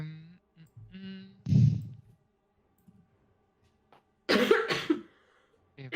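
Someone coughs in a dusty studio, a throaty cough followed by quiet clicks and then a louder burst of coughing and throat clearing, close up with no talking.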